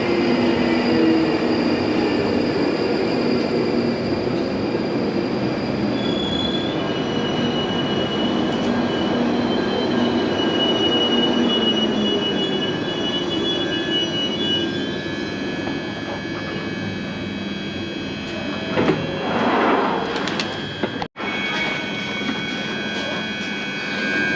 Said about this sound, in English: Here we've got an Edgware train.